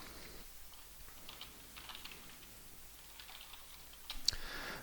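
Soft typing on a computer keyboard while entering a password, a quiet run of light irregular key clicks in a calm room, with a slightly louder tap near the end.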